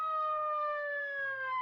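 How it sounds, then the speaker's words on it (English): An old civil defense siren howls in a loud, steady, slightly falling wail that carries through the whole stretch, with a faint low drone briefly underneath. "the old civil defense siren would howl for exactly 30 seconds"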